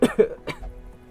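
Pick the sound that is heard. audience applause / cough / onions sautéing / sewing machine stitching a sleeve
cough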